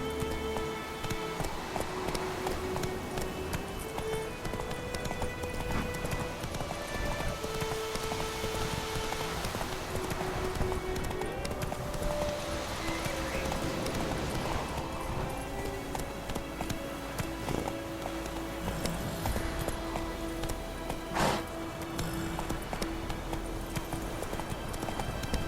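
Geralt's horse Roach gallops steadily in The Witcher 3, a continuous rapid clip-clop of hooves with game music and ambient noise underneath throughout.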